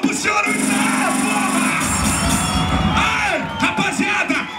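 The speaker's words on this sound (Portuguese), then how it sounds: "uma salva de palmas pro senhor Gustavo!" A live bar crowd at an MC Kauan show claps, cheers and whoops. The noise is loud and close, with shouted voices, yelling and chatter mixed in throughout.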